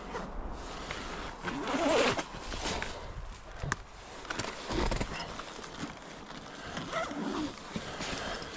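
Zipper on winter clothing being fastened in hard frost, with several short scratchy zips and rustles of fabric spread irregularly over a quiet outdoor background.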